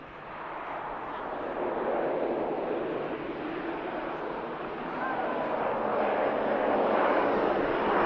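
A propeller aircraft moving at Manchester Airport gives off a broad, steady engine roar that swells slightly as it goes, heard from a moderate distance.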